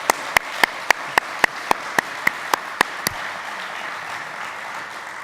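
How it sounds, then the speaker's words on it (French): Clapping for a man named Jean at the opening speech of the 2018 Handi-Livres prize, a dozen crisp, evenly spaced claps that stop abruptly after about three seconds, leaving quiet room tone. "Je vous demande de l'applaudir."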